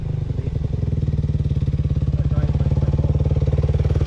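A hard enduro dirt bike engine approaches on an off-road trail, its rapid, even single-cylinder putter loud and close throughout, with no one talking.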